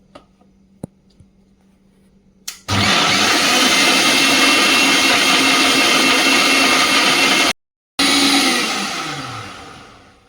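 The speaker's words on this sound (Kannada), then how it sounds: "ಹಾಕಿ ಚೆನ್ನಾಗಿ ರುಬ್ಕೊಳ್ತೀನಿ ಸಣ್ಣಕ್ಕೆ" A mixer grinder runs loud and steady, pulverising onion, tomato, green chilli and garlic for a green chilli chicken curry, with a brief cutout near the end before the motor winds down; faint clinks come before it starts.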